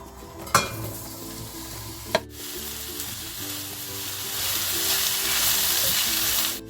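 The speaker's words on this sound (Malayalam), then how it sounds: "പാന് ചൂടായി അതിലേക്ക് 2 ടേബിൾ സ്പൂൺ ഓയിൽ ഒഴിച്ച് പിന്നെ നമ്മൾ ഉള്ളി ചേർക്കും." Onions sauté in hot oil in a pan, giving a continuous sizzle that grows slightly louder, with two sharp utensil clacks early on.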